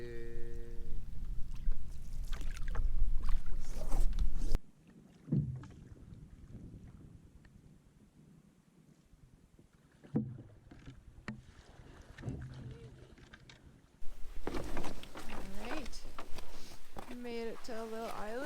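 Canoe paddling on a lake in Bissett Creek Provincial Park against a headwind, with bursts of wind buffeting the microphone, water sloshing and paddle strokes, and stretches of people talking over it.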